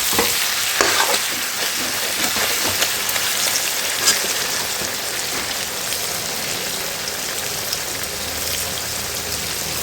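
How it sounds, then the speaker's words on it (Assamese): Chicken sizzles steadily in hot oil in a home kitchen, cooked simply with whole cumin, ginger and garlic: a dense, even crackle with occasional sharper pops, close and continuous throughout, no voices. "এয়া 5-6 মিনিটমান ভাজি ল'লোঁ, তেলবোৰ উঠি আহিলে এনেকৈ।"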